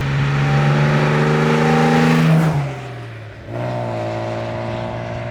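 A 1963 Maserati 3500 GT Sebring's engine revs loudly and steadily while driving, then drops sharply as revs fall off before settling back into a strong, even drone.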